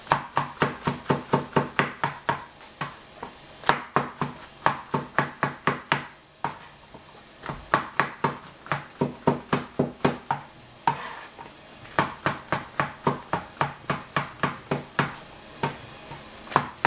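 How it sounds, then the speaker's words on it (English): Kitchen knife chopping shiitake mushrooms on a cutting board, a long run of quick, sharp, evenly spaced close strikes in bursts with brief pauses, no talking. "Cut some shiitake mushroom."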